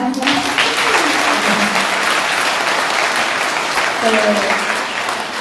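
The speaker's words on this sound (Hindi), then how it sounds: "तो बा के लिए भी एक बार तालियां।" At a Hindi spiritual gathering, an audience gives steady, dense applause throughout. A speaking voice briefly rises above the clapping at the start and again near the end.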